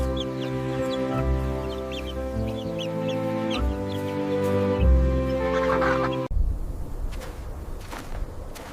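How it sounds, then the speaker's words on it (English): A chicken clucks close by in a busy run of repeated, bubbling calls lasting several seconds, followed by a cut to softer outdoor background with faint scratching sounds. "This is a chicken."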